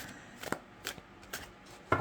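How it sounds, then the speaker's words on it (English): Overhand shuffling of a Bee Tarot card deck: a few soft, brief papery riffles spaced about every half second, faint and close, ending in a slightly sharper slap of cards. "the overhand shuffle. And it glides really well."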